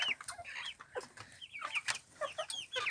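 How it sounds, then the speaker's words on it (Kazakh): Hens on a Kazakh farm cluck and murmur close by in winter, with short overlapping calls from several birds in a continuous, busy chatter. "Мынау біздің тауықтар."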